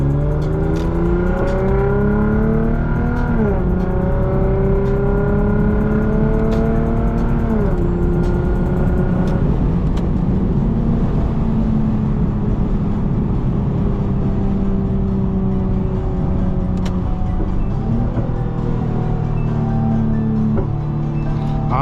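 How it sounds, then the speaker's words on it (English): A straight-piped Lexus IS250 roars loudly throughout a drive, its engine note rising and dropping through gear changes, with the exhaust popping now and then on downshifts. "Like when you downshift, it pops every now and then."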